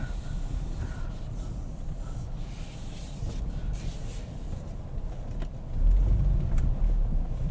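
A 2022 Ford Explorer Timberline on Bridgestone tires crawls offroad, its cabin filled with a low continuous rumble and road noise, swelling louder near the end as it pushes on.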